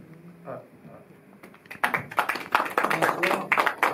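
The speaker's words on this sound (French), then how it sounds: "Vous avez raison de l'applaudir." Audience applause after a speaker's talk at a discussion event, breaking out about halfway through as dense, steady clapping that swells and holds, preceded by faint murmuring.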